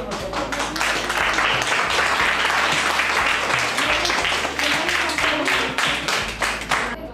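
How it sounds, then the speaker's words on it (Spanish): Enthusiastic applause from a sizable group at a school in León, Spain, dense clapping sustained for several seconds, loud and close, with a few voices mixed in. "un aplauso para todos vosotros"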